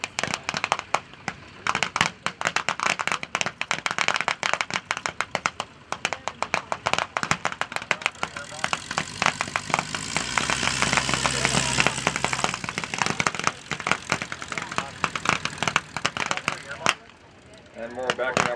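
A Jeep's engine runs amid a World War II reenactment battle, a steady mid-range motor hum swelling through the middle, overlaid by dense crackling gunfire and pops, with a brief lull near the end.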